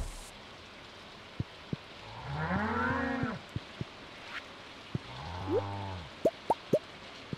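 Cows in the Stardew Valley farming video game moo twice in long harmonic calls, with a few sharp plopping drips scattered around them.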